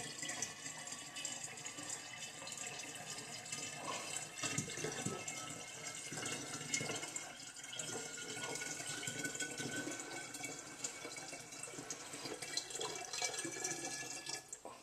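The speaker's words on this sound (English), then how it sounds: "we'll add some water" Water trickles steadily as it is poured into a bottle of homemade raspberry wine to top it up, a faint continuous splashing pour with no talk.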